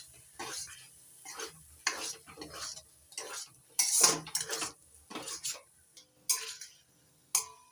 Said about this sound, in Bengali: নাড়াচাড়া করে ভালো করে কষিয়ে নেব।